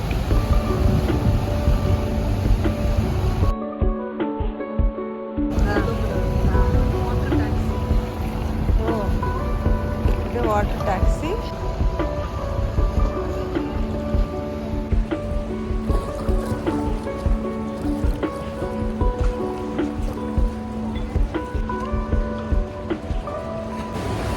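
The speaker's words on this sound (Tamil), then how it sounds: "போட்டு போகிற சத்தம் தண்ணி சத்தத்தோட வீடியோ எடுத்துக்கிட்டேங்க" A motorboat passes along the main canal in Venice, its engine droning steadily and close by, with water churning and wind buffeting the microphone throughout.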